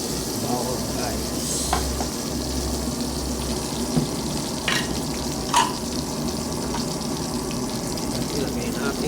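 Garlic fries in a pan with a continuous close sizzle, broken by a few sharp spatters and utensil scrapes, over a low steady hum.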